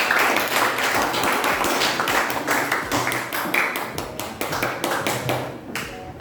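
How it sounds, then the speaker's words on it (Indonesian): Classroom applause, students clapping in a fast, dense burst of sharp hand claps that continues steadily for several seconds before tapering off. "Kasih tepuk tangan buat"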